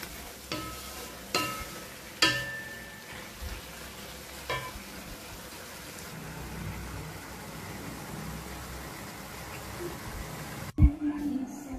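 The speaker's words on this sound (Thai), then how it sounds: "ผัดคลุกเคล้าให้เข้ากัน" Spicy pickled bamboo shoots stir-fried in a pan with sliced kaffir lime leaves and chili, giving a steady sizzle with a few sharp utensil clanks early on and a knock near the end.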